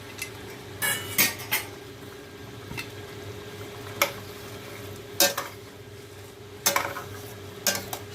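A spoon scrapes and clanks against a pan while fried cashews are stirred into paneer makhana in a watery gravy, with irregular metallic knocks over a soft simmer.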